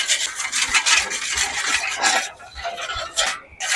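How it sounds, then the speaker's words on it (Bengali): A spoon stirs sugar into water to dissolve it for soft paratha dough. The scraping is rhythmic and rasping, with repeated close strokes against the bowl and no talking. "এবার চিনিটাকে ভালো করে গুলে দিচ্ছি।"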